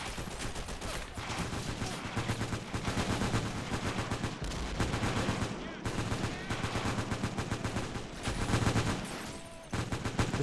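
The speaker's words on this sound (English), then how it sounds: "This is like a whole machine gun squad over here." Dense, continuous machine-gun and rifle fire from a squad in a winter town battle video game, rapid overlapping bursts running steadily throughout with no pauses, loud and close.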